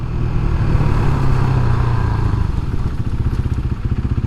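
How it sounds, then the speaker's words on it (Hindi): KTM RC 390 single-cylinder motorcycle engine while riding on a road, a loud, steady, slightly harsh thumping drone that turns into a choppy pulsing beat in the second half, close and with no talk. "ये थोड़ा सा सिंगल सिलेंडर होने की वजह से थोड़ा सा उस मुकाबले हार्श चलती है"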